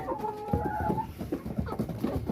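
Laying hens, around thirty of them, cluck and squawk close by, a busy overlapping chatter of several birds with no talking.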